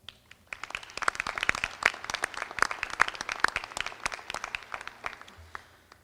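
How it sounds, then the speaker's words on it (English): A commencement audience gives a round of applause to the volunteers and staff. Individual claps stand out sharply in a moderately quiet, fairly distant ovation that builds and then fades over about six seconds. "Let's give them all a round of applause."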